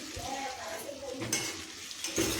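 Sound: panch phoron spices frying in pan

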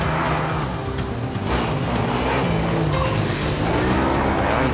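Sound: formula race car braking

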